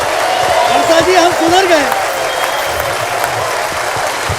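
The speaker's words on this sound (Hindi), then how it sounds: "चलिए तो जोरदार तालियों से स्वागत करिए पिंकू पांडे का।" An audience applauds to welcome Pinku Pandey on a Hindi comedy show, the clapping running steadily under voices talking and music with sung tones over the first half.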